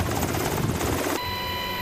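Military helicopter hovering during special forces rope descent training, a loud steady rotor and engine roar that holds close and constant, then shifts to a smoother whine with a sustained tone.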